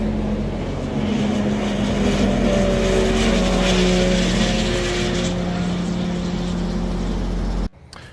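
A powersports vehicle runs sand drags in roughly 110-degree desert heat, its engine a steady, loud, sustained drone that holds for about seven and a half seconds before cutting off abruptly.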